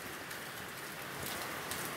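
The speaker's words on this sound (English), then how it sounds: "I apologize for the rain." Steady rain falls outdoors on a day of handcannon shooting, a dense even hiss of drops on surfaces, close and continuous with no voices.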